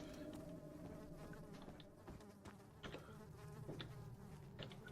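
Flies buzz steadily in the dark, eerie world of Amnesia: The Dark Descent, a close, droning swarm hum that continues throughout with small fluctuations and no voices.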